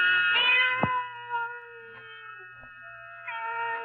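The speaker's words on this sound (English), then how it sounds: "the faint crying of one cat. The crying grew louder and louder." A cat cries in long, wavering meows on an old radio drama, a near, steady wail that rises again toward the end with no talk over it.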